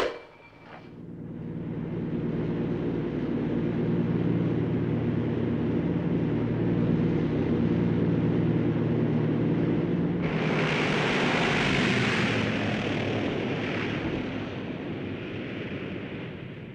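Airplane engine roar as a local plane arrives near Napoli in a 1957 crime drama, a steady loud drone building and swelling for most of the clip, rising sharply in intensity near the end as the aircraft draws close.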